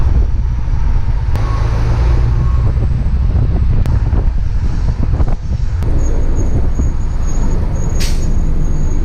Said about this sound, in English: We're on a tour bus, yo.